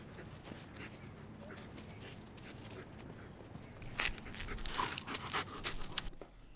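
Dogs pant softly and sniff through yard grass at close range, with quiet rustling that grows busier and louder toward the end.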